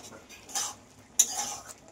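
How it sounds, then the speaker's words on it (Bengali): A spoon scrapes and stirs fruit chutney in a pan, two short scraping strokes with a soft clink, close and quiet. "চাটনিটাকে ভালো করে একটু মিক্সড করে নিলাম"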